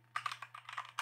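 Code is typed on a computer keyboard in quick, close, quiet keystrokes, several taps in an uneven burst under a faint steady hum.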